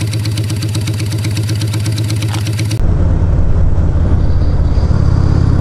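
Cafe racer motorcycle engine running, a loud close mid-pitched throb that shifts abruptly partway through into a rougher, heavier rumble.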